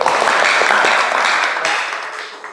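Brief burst of applause from a classroom or seminar audience, dense clapping that starts loud and tapers off over a couple of seconds.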